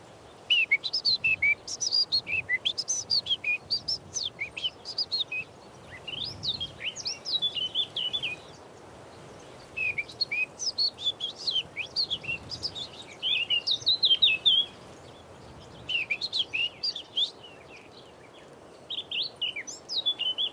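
Bright, varied birdsong with repeated chirps and warbling phrases, fairly close, in bursts with short pauses, over a soft background hum.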